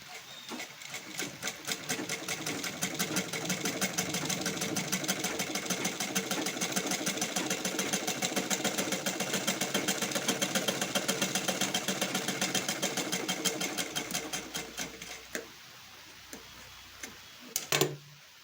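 A sewing machine stitching a fabric strip onto the front of a prince-cut blouse, a close, rapid mechanical ticking run that holds steady for about fifteen seconds, then stops, followed by a few handling clicks.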